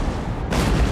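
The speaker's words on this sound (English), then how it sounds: "All of our artillery will work on targeting this guy, especially these five over here." A single artillery cannon shot in the Total War: Empire game, from a brief low boom that swells out of a rumbling battlefield bed.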